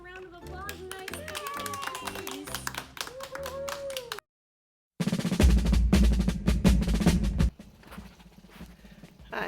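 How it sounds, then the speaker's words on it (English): Hands clap during a home kindergarten lesson. A burst of loud, close clapping lasting a couple of seconds follows a stretch of speech and a brief silence. "Let's give ourselves a round of applause and nice hands."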